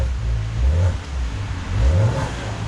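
A Lamborghini engine revved with its exhaust valves closed, two muted, deep blips of throttle rising and falling about a second apart, heard up close inside or beside the car.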